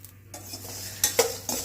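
Coconut pieces roasting in a pan for Chettinad bitter gourd tamarind kuzhambu: a short, close stretch of soft sizzle broken by a few sharp scraping stirs of a spoon against the pan.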